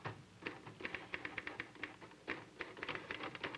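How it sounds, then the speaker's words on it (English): Elite typewriter typing 12 letters to the inch, in a 1960s office setting: a quick, uneven run of crisp key strikes, close and clear, with no voices. "I know my Elite typewriter types 12 letters to the inch"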